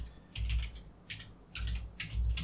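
Someone typing a pip install command on a computer keyboard, with several quick bursts of close keystrokes and short gaps between them over a low background hum.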